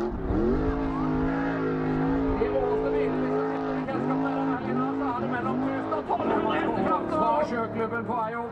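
Amcar race cars racing at Skien in 2015, engines roaring loudly and continuously with rising and falling revs as several cars pass, under a commentator talking throughout.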